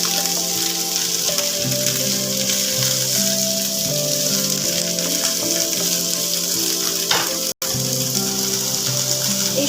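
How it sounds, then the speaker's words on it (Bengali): Capsicum being fried and stirred together with potato and carrot in a pan, a steady loud sizzle with a brief metallic clink partway through and a tonal hum underneath. "ক্যাপসিকাম দিয়ে এবার ভালো করে আমি এগুলো আলু আর গাজরের সাথে ক্যাপসিকামটা মিশিয়ে নিয়ে ভেজে নেব"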